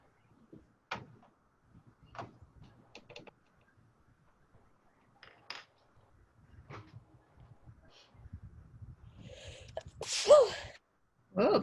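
A single sharp sneeze bursts out near the end amid quiet pencil scratching and small clicks as someone draws a California poppy.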